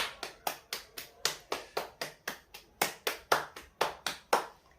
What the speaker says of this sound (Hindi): हम हाथ को ताली बजाते हैं